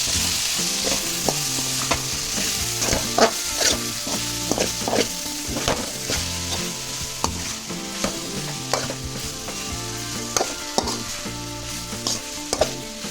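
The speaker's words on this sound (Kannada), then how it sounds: "ಸ್ವಲ್ಪ ಜೀರ ಜೀರ ಪೌಡರ್ ಸ್ವಲ್ಪ ಸ್ವಲ್ಪ ಗರಂ ಮಸಾಲ ಪುಡಿ ಹಾಕೊಂಡು ಮಿಕ್ಸ್ ಮಾಡ್ಕೊಂಡು" Vegetable fried rice with cumin powder and garam masala is stirred in a hot pan: a constant sizzle with repeated scraping, clattering strokes of a spatula against the pan in an uneven rhythm, close and loud, with no speech.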